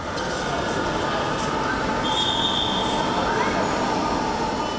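Metro rail train running, a steady close rumble and rush of wheels on track with a thin squeal rising partway through, continuous and loud throughout.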